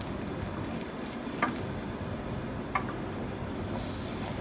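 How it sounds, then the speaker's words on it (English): Onions and garlic cooking in a pan with water instead of oil, giving a steady low sizzle throughout with two brief sharper ticks, close and with no talking. "it's now time for my mum and I to start to cook off the onions and the garlic"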